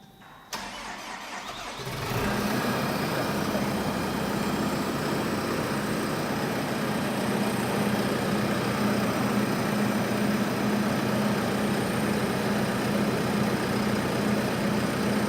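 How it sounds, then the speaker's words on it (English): An engine-driven alternator test machine in a shop cranks briefly, catches and settles into a steady, loud mid-pitched idle with no load, droning evenly and alone for the rest of the stretch. "I'm going to start the machine up with no load, and I'm just going to let it sit at an idle"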